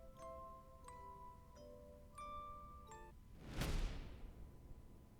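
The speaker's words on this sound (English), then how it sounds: "The disembodied sound of wind chimes guts me." Wind chimes ring softly and at a distance with several separate metallic tinkles, followed by a short swooshing rush.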